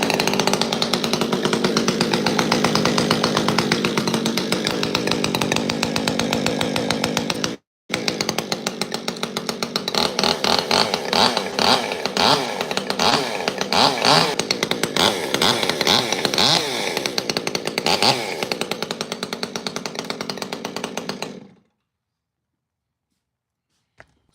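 Stihl-type M-Tronic chainsaw fitted with an updated Tree Tamer aftermarket muffler, running loud and steady close by with throttle surges, a brief cut-out near eight seconds, then shutting off after about twenty-one seconds.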